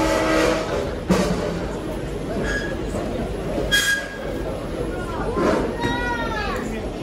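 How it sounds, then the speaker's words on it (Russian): A double-decker passenger train departs, rumbling steadily nearby with metallic squeals and clanks, while people talk over the continuous rolling noise. "Тут поезд уехал уже."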